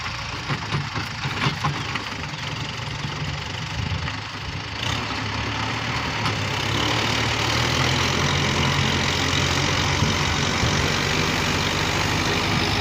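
A big Kubota M7040 tractor rotavating a rice field runs with a steady, loud engine drone that holds its load throughout, rising slightly midway and continuing without pause.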